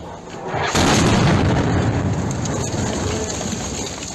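Artillery shelling near the front line in Bakhmut, Ukraine: a sudden loud blast followed by a long rumbling, crackling roar that fills the space and slowly fades, with no talking.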